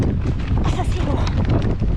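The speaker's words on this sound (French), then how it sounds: "c'est horrible ça quand il y a du vent" Wind gusts roaring across a boat at sea off Guadeloupe, a continuous close rumbling buffet against the microphone with voices talking underneath.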